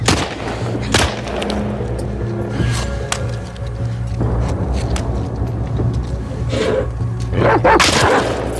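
A dog barks in a tense stealth scene from the game The Last of Us Part II, with a few sharp barks among low ambient rumble and distant thuds.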